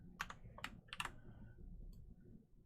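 Three quick bursts of keystrokes on a computer keyboard while editing code, crisp and close in a quiet room, followed by a lone tap; no one speaks.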